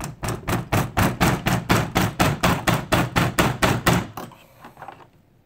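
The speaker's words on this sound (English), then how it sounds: "I'm going to hammer this thing." A hammer strikes a stuck knife in a fast, steady run of about fifteen loud, close metallic blows, then stops abruptly with a brief faint rattle afterward.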